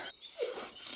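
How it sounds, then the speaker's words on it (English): A dog whines once, faint and brief, a thin rising-and-falling cry indoors at home. "That's my dog, and he's being a whiny little baby."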